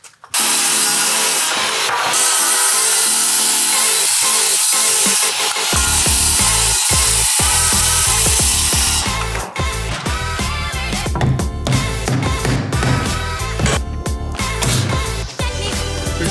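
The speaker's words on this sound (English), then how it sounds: "I'm gonna cut 3 or 4 studs, 95 and an 1/8." A power saw cuts through wooden wall studs during framing for a load-bearing window relocation, loud and continuous for most of the stretch, with the blade's pitch shifting as it bites and frees from the wood.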